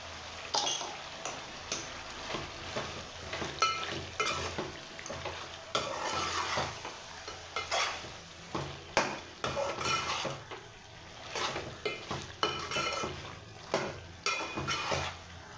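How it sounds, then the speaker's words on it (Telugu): Ground masala paste fries in a pan of chicken curry while a spoon stirs it, producing a continuous soft sizzle broken by repeated scraping and clattering strokes against the pan. "మనం ముందుగా మిక్సీ పట్టుకున్న మసాలా పేస్ట్ ఇది కూడా వేద్దాం"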